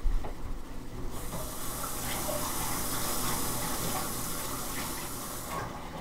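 Running tap water pours steadily while items are rinsed under it, a continuous close hiss and splash that stays even for several seconds before tapering off, with no talking.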